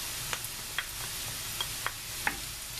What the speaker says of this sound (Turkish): Biraz da patatesle birlikte sotelensin havuçlar